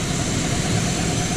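A Chevy C10 engine idles high on cold idle at about 1500 rpm, a loud, steady, even hum with no voices over it.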